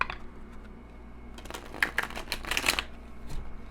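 Tarot cards are shuffled with a quick, crisp riffle, rapid flutters of stiff cardstock clustered near the end after a quieter start.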